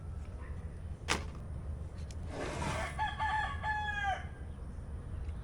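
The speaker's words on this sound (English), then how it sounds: "I'm pretty sure the rooster's gonna sneak up and kick the shit out of me." A rooster crows once in a dusty workshop open to the outdoors, a loud wavering cock-a-doodle-doo heard near, preceded by a short sharp clack, over a steady low background hum.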